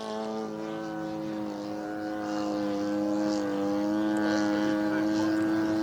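A 77-inch RV-8 Old Crow RC plane's engine drones as the aircraft climbs, a steady harmonic buzz that swells louder and slightly higher toward the end, with a voice talking over it at times.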